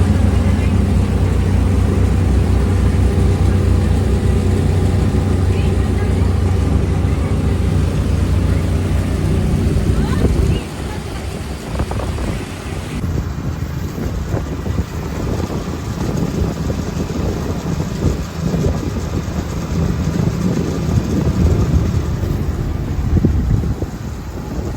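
A motorboat engine drones steadily while cruising the Poovar backwaters in Trivandrum, Kerala, a loud low rumble through the whole stretch that shifts in tone partway, with voices talking faintly over it.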